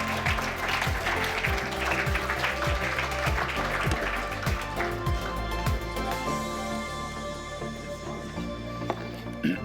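Applause for award finalists at an open source awards ceremony, mixed with loud music carrying a steady beat; clapping is strongest early and fades as the music continues on its own.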